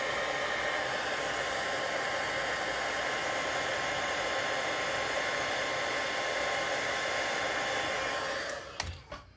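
A heat tool melting embossing powder on a stamped card blows a steady, close whooshing roar with a faint whine, holding constant before cutting off with a few clicks near the end.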